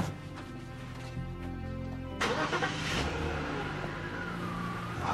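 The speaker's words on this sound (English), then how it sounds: "let me at least see if I can get your car started" A car engine turns over on a deserted road, a low cranking hum that catches and rises into a louder revving roar midway, then holds at a steady idle with no voices.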